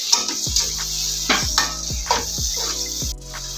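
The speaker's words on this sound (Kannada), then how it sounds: "ಕಲಸಿಟ್ಕೊಂಡಂಥ ಸಿಗಡಿಯನ್ನು ಆ್ಯಡ್ ಮಾಡ್ಕೊಳ್ಳೋಣ. ಒಂದು 5 ನಿಮಿಷ ನೀಟಾಗಿ ಫ್ರೈ ಮಾಡ್ಕೊಳ್ಳೋಣ." Prawns frying in ground masala for biryani, with a spoon clattering against the pan in repeated stirring strokes over a steady sizzle.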